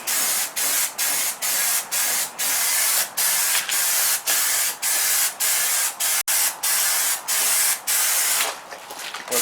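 A protective undercoating is sprayed onto the modified floor of a 1948 Ford being swapped onto a Ford Ranger body, in regular hissing bursts of about half a second with short gaps, loud and close.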